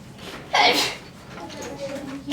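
A single short sneeze bursts out sharply near the start, followed by quiet background and faint room noise.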